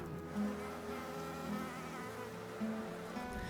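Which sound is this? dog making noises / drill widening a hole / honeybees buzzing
honeybees buzzing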